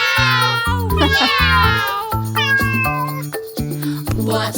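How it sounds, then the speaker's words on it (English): Cartoon cat meows sung over a bouncy children's nursery-rhyme backing, several drawn-out meows riding the melody with a steady bass and chime accompaniment. "It's a cat. Meow."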